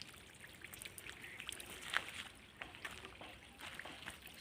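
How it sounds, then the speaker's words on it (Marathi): Water falls and trickles faintly at the site of a swimming pool under construction beside a bungalow, a soft, uneven splashing with a few brighter drips, heard from some distance. "पाणी पडते"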